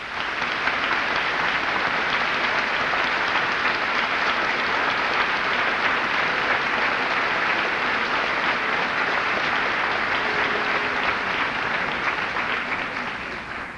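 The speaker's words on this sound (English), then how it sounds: "I'd appreciate, as you did once before, if you would join me in applauding the work of this outstanding faculty." Long, steady applause from a large crowd at a high school graduation ceremony in Reston, Virginia, honouring the faculty, dense clapping that holds evenly for over ten seconds before easing slightly at the end.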